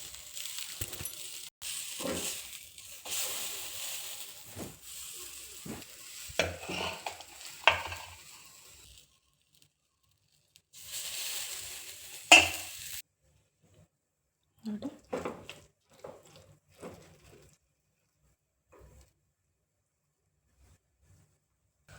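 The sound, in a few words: masala akki rotti (rice flour flatbread) cooking on a pan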